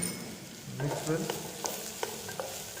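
Mushrooms and vegetables are stirred in a pan on a slow flame, giving a soft sizzle with a few light scraping clicks of the spoon, quiet and close.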